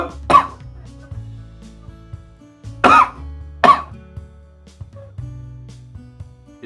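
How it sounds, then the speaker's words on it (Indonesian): Three forceful, wet coughs meant to bring up phlegm, close and loud, spaced a few seconds apart with quiet breathing between them. "lalu kita batukkan."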